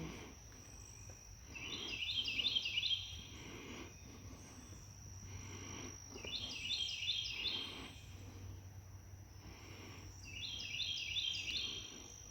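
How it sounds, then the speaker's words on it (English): Birds sing in three separate bouts of bright, warbling song, with a steady high insect drone and a quiet outdoor hum underneath. "And listen to the birds."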